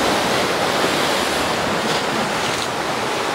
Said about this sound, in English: We've just got this whole wild riot of water rushing in, rushing out again.